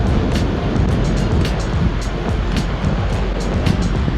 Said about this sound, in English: Those waves are just crazy.